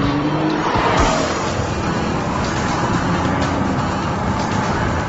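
Nissan GT-R engine pulling hard after a downshift, a loud, sustained broadband roar with a rising strain near the end, close and continuous throughout.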